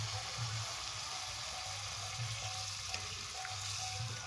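Water hits vegetables frying in a pan, producing a steady, close sizzle and hiss that stays loud throughout without any talking.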